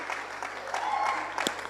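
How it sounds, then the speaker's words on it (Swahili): A concert audience applauds: a soft, even patter of many hands clapping with a few sharper claps standing out, fairly distant and faint, with no clear voices on top. "Mpigieni makofi."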